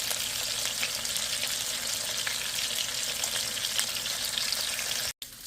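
Desi koi fish frying in oil, a loud, dense crackling sizzle that holds steady and close throughout, with sputtering pops, then cuts out briefly near the end.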